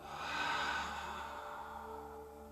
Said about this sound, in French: Je souffle et je monte.